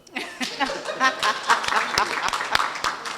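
Scattered applause from an audience at a talk on sexual and gender-based violence, uneven claps rising and falling with a few sharp individual hand slaps standing out, mixed with murmuring voices.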